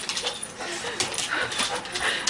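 A dog whimpers and whines in excited, uneven bursts at a soldier's homecoming, close and fairly loud, with people talking over it throughout.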